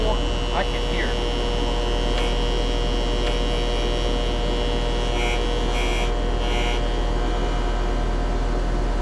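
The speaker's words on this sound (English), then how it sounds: "Contactor sounds loud." Loud buzzing contactor in an HVAC system, a constant low electrical hum with steady higher tones, close and unchanging, with a few faint clicks and brief sounds over it.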